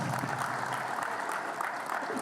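Applause from attendees at an airport business association meeting fills the room, a dense, even patter of clapping at moderate level with faint crowd murmur beneath.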